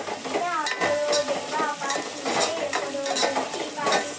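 Ginger garlic paste roasting in a pan while being stirred, close sizzling with repeated metallic scrapes and clinks of a spoon against the pan, busy and uneven, with faint voices in the background.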